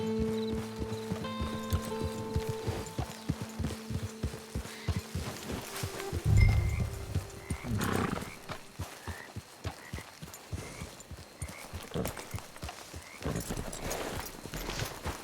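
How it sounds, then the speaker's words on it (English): Horse hooves clip-clop at a walking pace in the video game Red Dead Redemption 2, a steady close rhythmic clatter running throughout, with tonal chimes, a short louder thump midway and faint ambient effects. "Get your horse."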